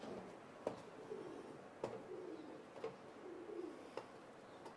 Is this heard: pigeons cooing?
yes